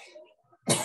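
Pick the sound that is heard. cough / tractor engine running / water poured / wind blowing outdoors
cough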